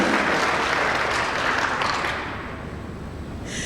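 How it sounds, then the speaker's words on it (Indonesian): Sustained applause from a crowd at an award ceremony, loud and steady at first, then easing slightly toward the end. "Boleh saya minta tepuk tangan yang meriah sekali lagi untuk Anda semua para hadirin di sini."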